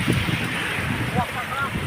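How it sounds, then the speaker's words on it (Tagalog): Cold wind blows outdoors, a continuous rush with low gusting rumble across the microphone, under intermittent talk and laughter. "Namigig hangin dere."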